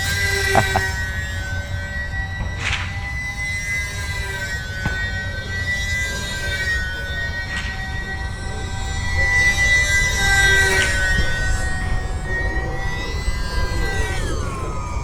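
An E-flite UMX Gee Bee R-2 small electric RC airplane flying tight turns, its whining motor rising and falling in pitch over low background noise.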